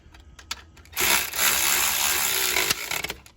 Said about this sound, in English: That ratchet saves time, but you can't get it too tight with a ratchet like that.